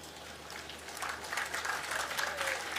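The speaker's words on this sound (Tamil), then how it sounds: "இப்ப கைத்தட்டல் கூடுதலா வரும் பாருங்க." Audience applause at a Tamil haiku poetry reading, clapping that starts softer and swells, sounding somewhat distant and moderate in level.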